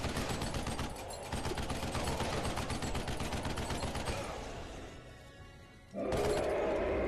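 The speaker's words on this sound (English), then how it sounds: "He wants me to use the turret, but he's able to shoot me while I'm using it." Turret gunfire in Duke Nukem Forever rattles out in dense automatic bursts that run unbroken for several seconds, stop briefly, then cut back in loudly at the end.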